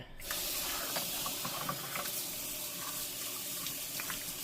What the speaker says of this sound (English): we can put the stack of dishes back in here, and then we can start rinsing